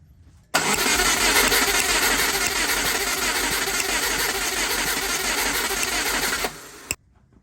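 The engine of a WRX-swapped Subaru Impreza cranks on the starter during a compression test, a loud, steady rhythmic churning that runs for about six seconds and then cuts off.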